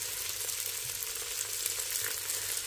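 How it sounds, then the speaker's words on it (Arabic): Rinsed lentils are stirred into frying onions in a pot for a vegan lentil soup, making a constant close sizzle with soft stirring movement, alone and without talk. "وهلا رح اخلطهم مع البصل بهي الطريقة."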